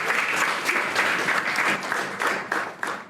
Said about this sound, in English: Give each other a clap, please.